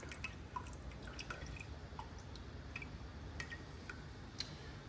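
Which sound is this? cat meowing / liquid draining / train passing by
liquid draining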